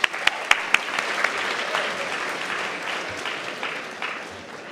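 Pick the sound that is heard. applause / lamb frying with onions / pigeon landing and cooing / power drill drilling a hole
applause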